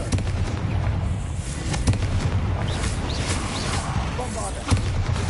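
Confringo fire-spell blasts in Hogwarts Legacy, a steady run of crackling impacts and bursts with a couple of sharper hits, heard under a voice casting spells.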